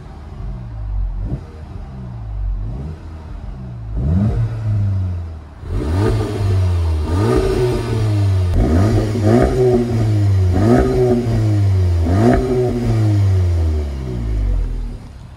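A 290 hp VW Golf GTI TCR idles with a low rumble, then is blipped hard again and again, each rev rising and falling in a rough, throaty sweep close by. No one speaks.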